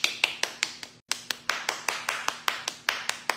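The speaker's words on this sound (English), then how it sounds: "I'll take the applause" Hand claps or taps sounding one by one at a steady, moderately quick rhythm, close and crisp, with a brief pause near the one-second mark before the even beat resumes, no talking.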